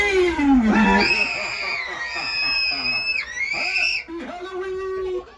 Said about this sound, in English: Hold hands with the person next to you and scream!